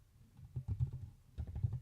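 A short run of soft keystrokes on a computer keyboard, quiet and close, in two brief clusters with a pause between.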